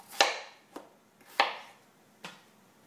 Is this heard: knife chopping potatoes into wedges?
yes